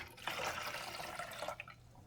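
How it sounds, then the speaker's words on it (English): Fresh water poured into the reservoir of a Keurig K-Select coffee maker during vinegar descaling: a steady, close splashing trickle starts abruptly, runs for over a second, then tapers off into faint dripping. "And then I'm going to put the fresh water in."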